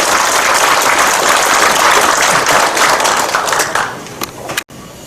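Loud, dense applause from a large crowd at a national farmers' rally, steady and sustained before thinning out near the end with a few scattered claps.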